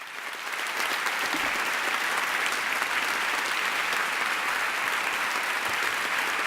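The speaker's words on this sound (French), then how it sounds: "Ces applaudissements sont pour vous, pas pour moi." An audience at a TED conference applauds in a sustained, dense wash of clapping that swells in after a moment and holds steady, loud and close, with no talking over it.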